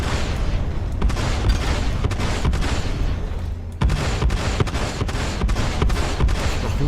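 Ship cannons firing on a 300i spacecraft in a video game, a steady rapid barrage of loud repeated shots with sharp blasts throughout, briefly pausing before resuming.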